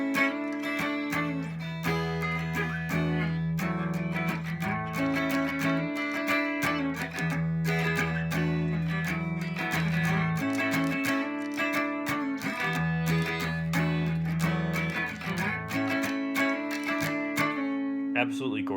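Guitar lick with a slide up, a steady passage of close, ringing melodic notes with some sustained bass tones, played alone with no voice over it.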